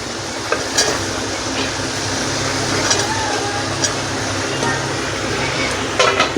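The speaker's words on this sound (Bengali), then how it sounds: "ঝিঙেগুলো একটু দিয়ে নেড়ে চেড়ে আমি ঢাকা দিয়ে দেব।" Ridge gourd and potatoes are stirred in a frying pan of hot oil, giving a steady close hiss of frying with occasional clinks and scrapes of the spatula against the pan.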